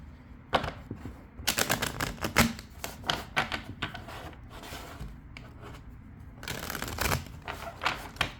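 Tarot cards are shuffled and pulled in quick, irregular bursts of crisp riffling and flicking snaps, close and fairly loud, with brief pauses between flurries.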